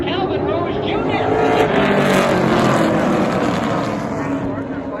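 Super Late Model race cars roar around Oxford Plains Speedway, a dense, continuous engine drone building and fading as the pack passes, with an announcer talking over it.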